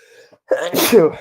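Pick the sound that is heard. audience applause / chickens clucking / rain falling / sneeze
sneeze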